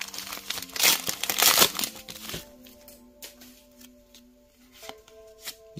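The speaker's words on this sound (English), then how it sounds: "I'm spending more time opening the packs than I am actually looking at the cards in the pack" Foil wrappers on Pokémon card packs crinkle and crackle as they are torn open, busy and close at first, then thinning to sparse rustles with a faint steady hum behind.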